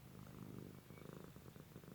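A cat purrs softly and continuously in a steady, low rumbling rhythm, close and quiet, with no talking.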